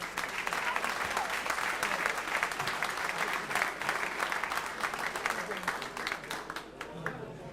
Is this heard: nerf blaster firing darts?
no